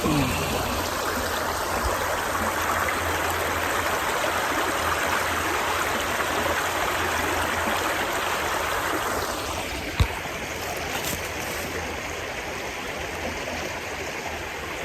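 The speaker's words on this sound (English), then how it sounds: "Probably been hearing the water running." Forest stream rushing steadily over rocks below a creek bed, a constant close broadband wash of flowing water with one brief knock near the end.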